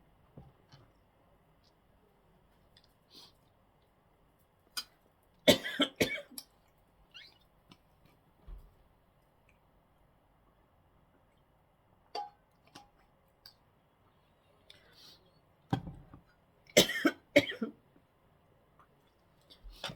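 A few sharp coughing bursts from an allergy stand out against a quiet background, with a pair near the middle and a clustered fit of coughs later on.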